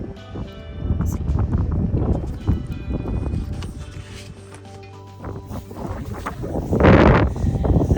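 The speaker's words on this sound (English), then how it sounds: "It's quite windy." Strong wind gusts roar across the microphone outdoors at a sheep pasture, a continuous rumbling buffet that swells and eases, rising to a loud burst near the end.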